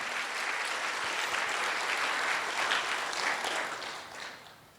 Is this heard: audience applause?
yes